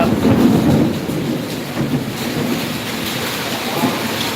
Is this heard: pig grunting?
no